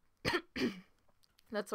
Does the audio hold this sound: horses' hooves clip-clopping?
no